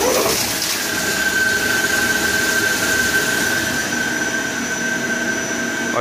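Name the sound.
lathe boring operation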